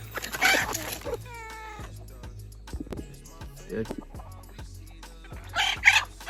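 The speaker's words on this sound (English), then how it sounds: "So you just saw me feed the chickens in the morning." Farm hens cluck and squawk in short bursts amid rustling and footsteps during morning feeding, with a faint rooster-like call and a brief meow-like cry.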